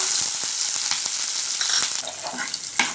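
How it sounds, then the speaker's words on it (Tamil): Green chillies and cumin seeds sizzling in a pan over a low flame, a continuous close crackle broken by occasional sharp pops and utensil taps. "பச்சை மிளகா லைட்டாக வதங்கிடுச்சு"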